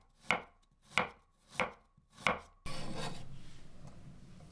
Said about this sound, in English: Remove the skin from a piece of ginger. Cut to obtain ½ ounce of thin slices.